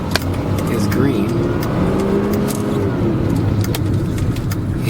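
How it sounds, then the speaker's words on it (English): 1987 Mercedes-Benz 300D W124 six-cylinder turbo diesel with four-speed automatic, the engine droning loudly from inside the car as the turbo spools up, a faint rising whine over heavy low rumble. "You hear that turbo kick in"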